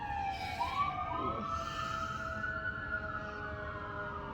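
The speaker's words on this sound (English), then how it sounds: "And the sirens are coming again." A wailing siren rises and falls steadily at a distance, a second tone layered over it, against a constant low background rumble.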